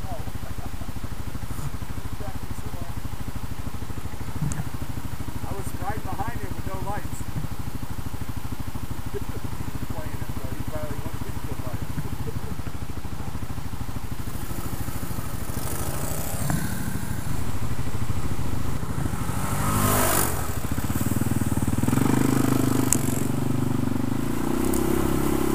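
An ATV motor runs steadily through a night trail ride, a constant engine drone with some clatter and a rougher, louder stretch near the end, while voices talk over it at times.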